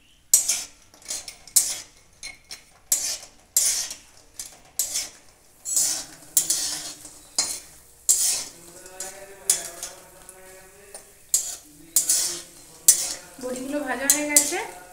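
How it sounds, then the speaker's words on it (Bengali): Bori lentil dumplings frying in mustard oil in a wok, with rhythmic metal spatula clinks and scrapes against the pan over a light sizzle, and a bleating animal audible in the background. "তেলে এখন আমি কিছু বড়ি ভেজে নেব।"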